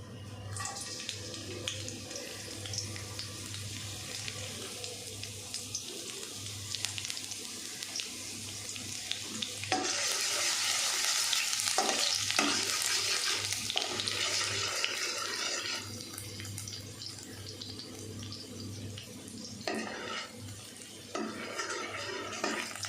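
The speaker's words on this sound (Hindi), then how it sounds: "लहसुन हमारा अच्छे से सौते हो गया।" Garlic sizzles in two spoons of hot oil in a kadhai, just after eggs were fried in it, giving a steady hissing crackle with occasional stirring scrapes throughout.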